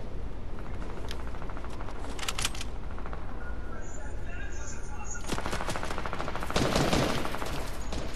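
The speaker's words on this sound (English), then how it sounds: "Someone's shooting at me." Video game gunfire, rapid automatic bursts in short clusters over a constant game backdrop, moderately loud, the heaviest volley near the end.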